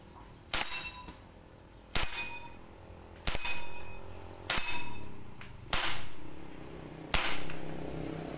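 An Umarex Glock 19 airsoft pistol is test-fired at targets: six sharp, snappy shots spaced roughly a second apart, each followed by a brief metallic clink and ringing decay, fairly close and without speech.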